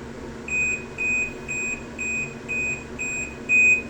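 An Astron washing machine beeps at the end of its cycle, a steady series of seven evenly spaced high electronic tones about half a second apart, clear and close over a faint background hum.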